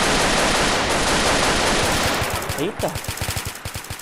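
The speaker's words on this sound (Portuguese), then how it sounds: "E ela é automática. Automática, não é single fire. Olha só que foda que é essa pistola." An automatic G18 mod pistol with a silencer fires in GTA multiplayer, a fast, evenly spaced burst of sharp shots cutting through dense game noise, with a brief exclamation from a player.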